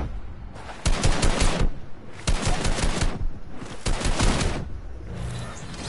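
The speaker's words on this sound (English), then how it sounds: "Why is this kid shooting at me?" Video game gunfire comes in three dense automatic bursts, each lasting about a second, with short pauses between them. It is loud and close, with quieter shots trailing off at the end.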